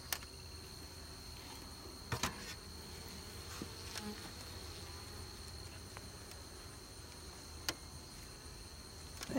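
Honey bees buzzing in a steady, faint drone, with a few sharp clicks and taps scattered through, as homemade comb is moved into hive frames.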